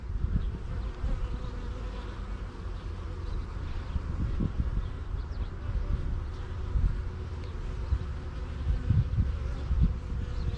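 Steady, dense buzzing of many honeybees in a hive, a continuous close drone with small swells in loudness and no voices.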